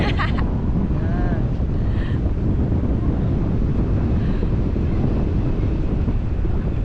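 Strong wind buffets a microphone at a paragliding site with a constant low roar, steady throughout, with faint traces of voices at the start.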